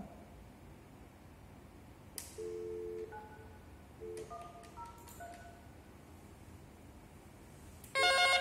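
A series of electronic telephone tones from an analog Panasonic PABX, a few sustained beeps, then a brief bright ringing burst near the end, fairly faint overall.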